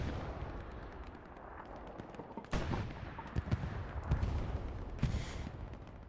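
Tank cannon fire in a 1v1 tank duel during a competitive online strategy match, with two heavy booms about two and a half seconds apart over a low rumbling battle bed.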